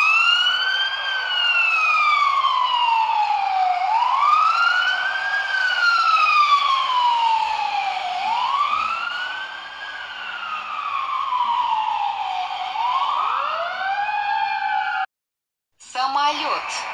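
Cartoon fire engine siren wailing in long rising and falling sweeps, loud and close, repeating steadily for most of the clip before a brief cut and a new sound at the end.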